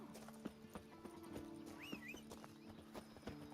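Hooves of Roach, Geralt's horse in The Witcher, clip-clop at a steady walking rhythm on hard ground. The footfalls are faint and even, with a brief whinny partway through.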